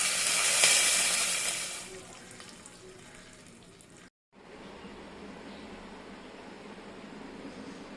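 Hot tempering of garlic is poured onto drumstick leaves for kootu, giving a quick loud sizzle that fades into a low, quiet hiss after a brief silence.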